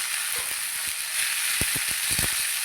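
Cluster beans (guar) with turmeric and semolina sizzling in a pan, a constant close frying hiss broken by occasional soft knocks and stirring sounds, with no talk.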